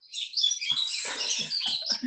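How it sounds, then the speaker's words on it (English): Birds chirping outside a house, a steady stream of bright, overlapping tweets and trills heard through a thin, slightly harsh connection, with a few soft low thumps underneath. "All I heard was birds."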